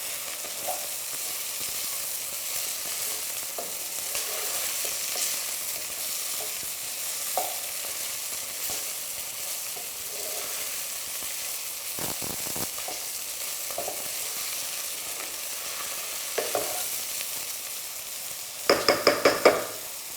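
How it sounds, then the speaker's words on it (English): Garlic and ginger fry in a pan with a steady low sizzle, stirred now and then with soft scrapes and taps, ending in a quick cluster of sharper knocks from the utensil against the pan. "And as it's cooking, you can really smell that garlic and ginger"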